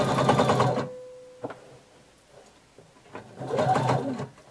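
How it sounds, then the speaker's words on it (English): Sewing machine stitching a pleat on a color-blocked pullover top, two loud whirring bursts of stitching separated by a quieter pause with faint handling noises. "And I'm literally just going to stitch."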